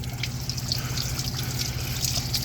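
Cold water runs steadily from a tap or hose outdoors, a faint continuous trickle and splash at moderate distance with no one talking.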